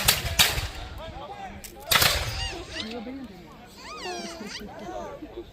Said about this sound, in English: well deployed, and the effective volleys they've been firing